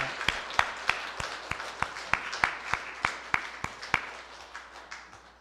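Church congregation in a Korean worship service giving rhythmic applause for elders aged 70 and over, a steady series of sharp, evenly spaced claps heard fairly faintly in a reverberant room.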